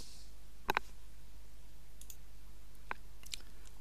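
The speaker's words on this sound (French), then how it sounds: "Je clique ensuite sur donc ce symbole deux fois." A few sharp mouse clicks on a computer, one quick double click early and then lighter single clicks, close and crisp over a quiet background.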